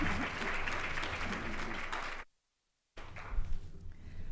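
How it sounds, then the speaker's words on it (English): A conference audience at a dementia research forum opening gives a round of applause for a speaker taking the podium, a dense steady clapping that cuts off abruptly into silence before resuming faintly with some movement. "please give Jane a big round of applause"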